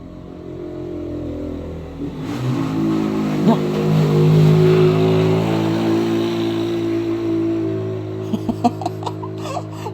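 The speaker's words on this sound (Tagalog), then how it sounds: "mayroong tricycle na dumadaan guys" A large tricycle rumbles past on a road, its engine swelling from a low idle to a loud, close pass and then fading, with a person talking over it and sharp clicks near the end.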